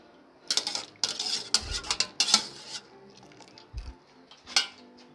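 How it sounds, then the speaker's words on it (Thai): Boiled luk nieng nuts are scooped out and tipped into a bowl of cold water. A quiet series of clinks and clatters from a utensil against the pot and bowl comes with soft splashes and dull thuds, and nobody speaks. "ก็ตักขึ้นมาพักไว้เลยค่ะ แล้วก็ตักมาใส่น้ำเย็นนะคะ"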